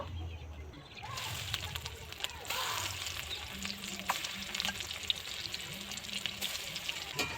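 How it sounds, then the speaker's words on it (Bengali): Pieces of bhola fish fry in hot oil in a pan, a dense, steady crackling sizzle with occasional spatters and faint stirring, while a voice speaks softly at times. "বাকি মাছগুলো একইভাবেই ভেজে নেব"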